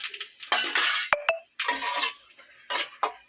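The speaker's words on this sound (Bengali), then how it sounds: "একটু নাড়তে নাড়তে বেসনটা একটু রং ছেড়ে দেবে, তখন আমাদের ডালটা দিয়ে দেবো।" Gram flour stirred in oil in a pan with a metal spoon, with bursts of scraping and sharp clinks of the spoon on the pan rim, close and uneven, without talk.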